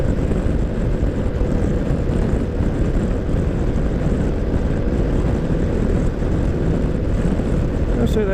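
A vehicle engine pulls at roughly half to three-quarter throttle on a two-lane road near Greeneville, Tennessee, giving a steady, loud, unbroken drone with heavy low rumble and wind noise throughout.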